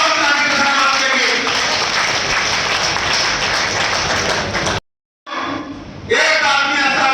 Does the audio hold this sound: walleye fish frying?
no